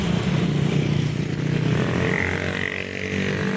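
A budget motorcycle's engine hums steadily nearby during a test ride, a continuous low drone that holds level with little change in pitch.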